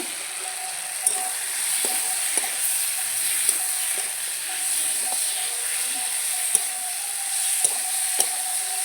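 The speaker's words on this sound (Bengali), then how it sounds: "এরপরে আমি দেখো এর মধ্যে সবজিগুলো দিয়ে দেবো, ভেজে রাখা সবজিগুলো আগে থাকছে। তো এই সবজিগুলো দিয়ে ভালো করে কষিয়ে নেব।" Fried vegetables sauté in onion and tomato masala with a steady hiss, punctuated by occasional sharp clicks of a spoon against the pan, close and even, without speech.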